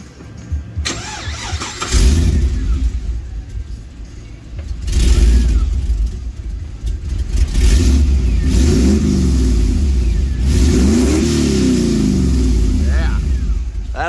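An LS1-swapped Nissan GU Patrol engine cranks, catches and revs repeatedly through a new muffler, its deep, throaty exhaust rising and falling in pitch close by, with people talking over it.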